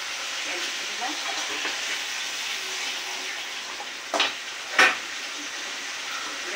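Food fries in a pan with a steady close hiss of sizzling, broken near the end by two brief sharper bursts of spattering.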